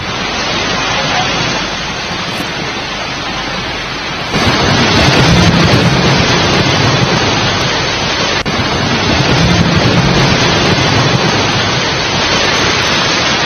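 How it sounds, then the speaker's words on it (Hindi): Heavy, continuous monsoon rain falls in Uttarakhand amid landslides, a dense steady roar that grows louder partway through, with rumbling gusts mixed in. "लगातार बारिश हो रही है"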